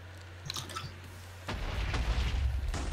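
A Minecraft explosion destroys everything around it, a loud, deep rumbling blast that breaks in at mid-clip and roars on to the end after a few faint clicks.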